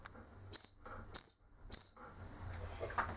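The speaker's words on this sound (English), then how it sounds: "here we have a gun dog whistle and lanyard" A gun dog training whistle gives three short, sharp, high-pitched blasts at an even pace over quiet background noise.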